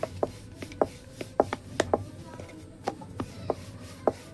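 A knife cuts through rolled layered dough for chhuti on a board, giving a dozen or so sharp, close taps in an uneven rhythm over a quiet background.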